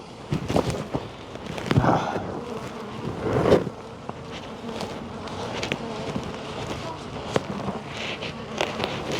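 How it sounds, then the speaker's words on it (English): Honey bees buzz close by in scattered bursts around a beekeeper splitting a hive, with several sharp, loud passes near the microphone over a busy outdoor background. "these bees are still chasing me around"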